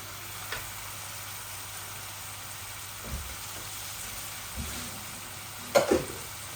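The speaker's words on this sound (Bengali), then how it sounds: "এই যে আমার মশলাগুলা ভাজা ভাজা হচ্ছে, এই যে তেল বেশি উঠছে মশলা থেকে।" Spices sizzle faintly and steadily in hot oil for a chicken and potato curry, with a few soft clicks and light stirring knocks near the end. No one talks.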